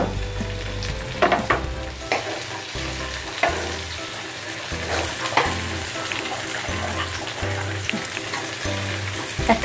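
Chopped tomatoes go into onions frying for a restaurant-style chicken curry, a constant oily sizzle broken by several sharp scraping and clattering stirs of a spoon against the pan.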